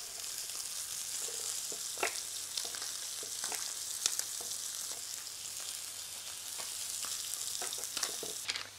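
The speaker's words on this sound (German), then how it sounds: "Ein Geheimtipp von Petra ist es noch, während des Bratens 1 oder 2 Zehen Knoblauch dazuzugeben" Wild salmon sizzling and crackling in a frying pan, a dense continuous fry with sharp pops and spits scattered throughout, close and fairly loud, with no voices.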